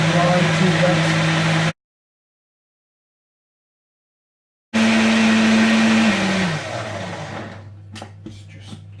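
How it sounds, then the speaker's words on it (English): A blender whirs loudly while blending food for long-term emergency storage, a steady motor drone that cuts off, restarts after a silent gap, shifts pitch and winds down, with some talk over it. "I'll just give it another minute of blending to make sure."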